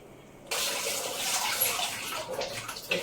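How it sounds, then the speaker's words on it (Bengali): A tap suddenly gushes after a brief quiet as hands are washed at home. The water runs steadily and close, splashing continuously to the end. "হাতটা ধুয়ে নিই"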